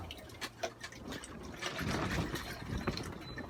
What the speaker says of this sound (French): Donc petit rinçage.